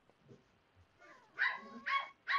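Several dogs barking and whimpering indoors in a home, with soft whines building into three loud bursts of barking close by.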